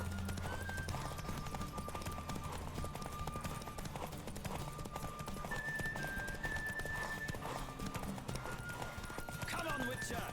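Galloping horse in The Witcher 3, hooves clip-clopping steadily beneath layered game music for the whole stretch, with faint voices and a possible whinny near the end.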